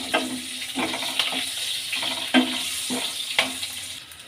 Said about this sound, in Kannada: ಈಗ ಹಸಿಮೆಣಸಿನ್ಕಾಯಿ ಹಾಕ್ಕೊಳ್ಳೋಣ. ಫ್ರೈ ಮಾಡ್ಕೊಳ್ಳೋಣ.